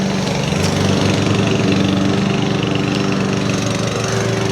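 A neighbour's petrol lawn mower cuts grass in a nearby yard. Its loud, steady engine drone holds unbroken for the whole stretch.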